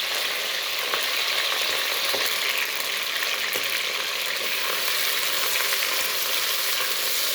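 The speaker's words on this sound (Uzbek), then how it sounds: "Chiroyli qilib qovurib olaman buni ham." Meat frying in a cauldron (qozon) gives a steady, close hiss and sizzle that runs unbroken for the whole stretch, with a few faint stirring clicks and no talk.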